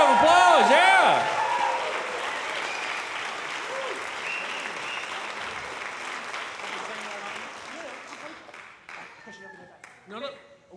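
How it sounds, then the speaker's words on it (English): Audience applause after a junior high band camp performance: loud clapping with a few cheers at first, then a long, gradually thinning ovation that fades into scattered claps and faint murmurs. "Let's give them another round of applause."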